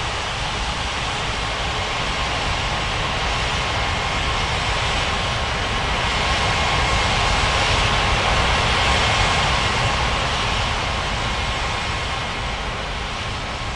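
A simulated airliner takes off from runway 17 right at Capeville City International in the game Unmatched Air Traffic Control, a loud, steady broadband jet roar that swells slightly midway and holds for about fourteen seconds with no talk.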